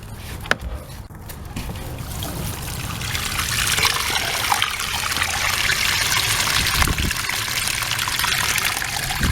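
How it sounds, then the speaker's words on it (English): Water drains from a tote used to hold tilapia, a steady, close trickle and splash that swells and keeps running without a break, with a few small knocks near the start. "That's draining the tote right there."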